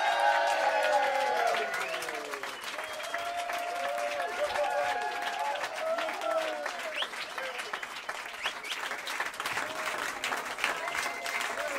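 An audience at a live acoustic blues radio concert claps steadily for several seconds, dense and sustained, while tonal sounds and murmured voices ring over the applause.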